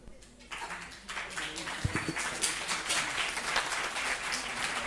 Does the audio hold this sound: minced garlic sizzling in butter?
no